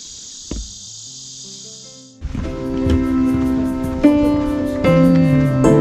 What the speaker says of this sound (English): That's a cicada bug.